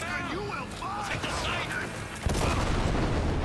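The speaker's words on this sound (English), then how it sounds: "Oh, I was just in the middle of an explosion." A loud explosion in the video game Cyberpunk 2077 bursts in partway through, followed by a dense rumbling, crackling blast that fills the rest of the moment, with a person talking excitedly before it.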